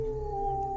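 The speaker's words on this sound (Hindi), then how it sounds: "रास्ते में कुत्ते भौंक रहे थे" Dogs howl on a road at night as an auto-rickshaw heads home, a loud sustained howl holding a steady wavering pitch throughout, with no talking.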